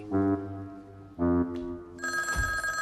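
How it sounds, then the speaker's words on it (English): A telephone rings in two loud electronic bursts with a pause between, followed by a steadier brighter tone layered with a low thud. "I was carefully inspecting the insides of my eyelids when the phone rang."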